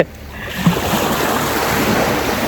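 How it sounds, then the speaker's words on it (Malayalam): Sea surf washes up onto the beach at Nusa Lembongan, Bali, a steady broadband wash of breaking water with wind noise, close and continuous throughout. "ഈ കടൽ വന്ന് നമ്മളുടെ കാല് ചുംബിച്ചിട്ട് തിരിച്ചു പോകും"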